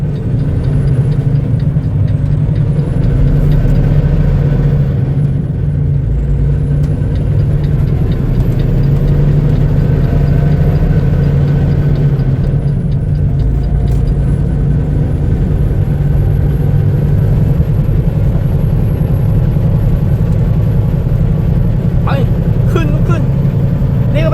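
Trucks idling at a busy Phillips 66 truck stop on a cold morning, a loud, continuous low diesel rumble with someone talking over it throughout.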